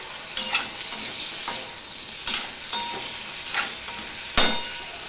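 Carrots and beans frying in a pan, with a steady hissing sizzle broken by periodic scraping stirs and one sharper knock near the end, close and fairly quiet, with no voices.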